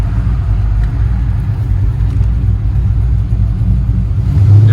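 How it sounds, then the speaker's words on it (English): Steady, loud low-pitched V8 rumble from a 1995 Impala SS with a 383ci engine and big cam under wide open throttle, heard from inside the car, holding continuous and rising slightly in intensity toward the end. "Alright, one last wide open throttle"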